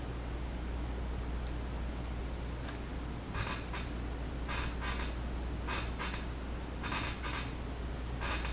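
An X-Acto knife cuts through leather for a smartphone case in short, scratchy scraping strokes, repeated in bursts over steady background hiss.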